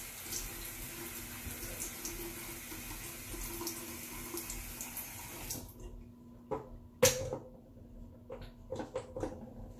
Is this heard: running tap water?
yes